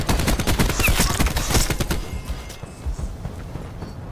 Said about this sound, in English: Just randomly just shooting the dude.